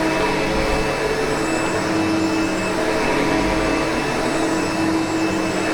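A SEBO Automatic X7 Boost ePower upright vacuum cleaner runs with a steady, loud, close whirring drone and a faint high whine, with no pauses.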